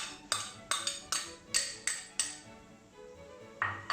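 Chopped chili and onion clattering into a bowl for Balinese sambal matah, a run of sharp, evenly spaced clinks and knocks close by, pausing briefly before one more knock near the end.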